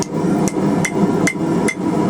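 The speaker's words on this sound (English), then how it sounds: "Give her some form over the horn here." A hammer strikes a wrench being forged over the horn of an anvil, with five sharp, evenly spaced metallic blows ringing out loud and close over a steady background hum.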